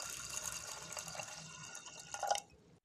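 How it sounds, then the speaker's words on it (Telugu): Water is poured onto toor dal to wash it: a soft, fairly quiet continuous trickle and splash that swells briefly before stopping. "వాటర్ పోస్తున్నా"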